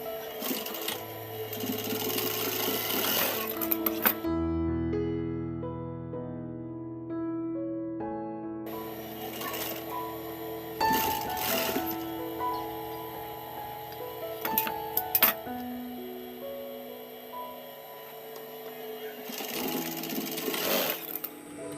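Close up, a sewing machine stitches a foam fabric bag in a long steady whir, with one brief pause and a few clacks as the fabric is adjusted, alongside a faint background tone.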